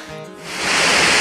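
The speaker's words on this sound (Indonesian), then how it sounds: "Penampakan dari air terjun nomor 3." The Banyu Wana Amertha waterfall, its third cascade, roars as a broad, constant rush of water that swells quickly from quieter to a loud, steady wash.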